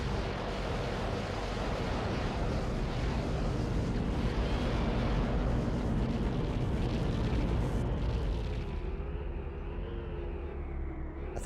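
Missiles exploding in a video game on real CRT hardware, heavy rumbling blasts forming a dense, continuous roar that holds steady before thinning into a lower drone near the end.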